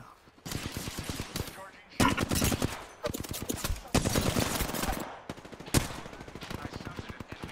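Sustained automatic gunfire in the battle royale game Apex Legends, long rapid rattling bursts broken by brief pauses, loud and close with sharp impacts, and no talk.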